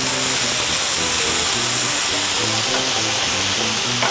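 White wine vinegar poured over chicken thighs in a hot frying pan on high heat, giving a loud, steady broadband sizzle and hiss that fills the whole stretch without a break.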